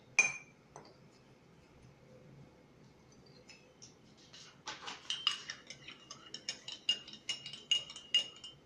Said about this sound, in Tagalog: ang ingay ng baso ko